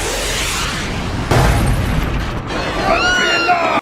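Fireworks explode in an animated movie, a booming burst followed by crackling pops and whistling trails, loud and close, with a voice faintly present underneath.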